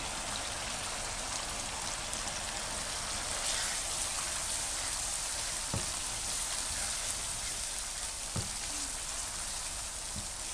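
Gosht, meat, fries in oil with cooked masala for Pakistani achari dal gosht, giving a steady, dense sizzle and crackle throughout with a few soft pops and clinks.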